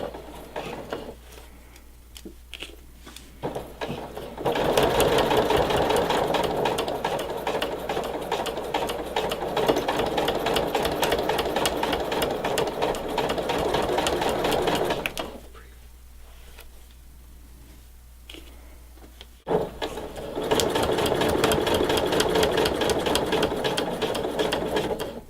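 A sewing machine stitches across fabric in two long, steady runs of dense rapid whirring, with a short quieter pause in between as the stitching stops and restarts.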